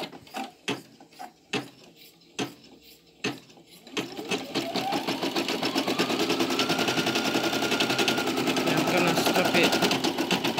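A Brother Innovis F480 sewing and embroidery machine starts with a few separate mechanical clunks, then settles into a loud, fast, steady stitching whir and rattle. A person speaks briefly near the start.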